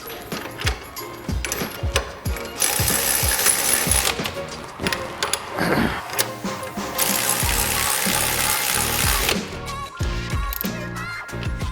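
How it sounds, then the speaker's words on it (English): Brake caliper bracket bolts are snugged up on a Mustang, with a dense run of ratcheting clicks and metallic rattles, loud and close, broken by short pauses and knocks. "Now I'm just going to snug this bracket up for now."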